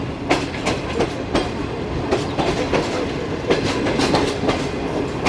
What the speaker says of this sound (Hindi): हमारी चमचमाती हुई शालीमार एक्सप्रेस अप्रोच बना रही है इस वक्त सांगला हिल जंक्शन रेलवे स्टेशन पर